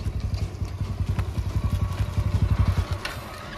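A motorcycle engine throbs with a rapid, regular low putter that swells as it draws nearer and passes on the road, with no talk over it.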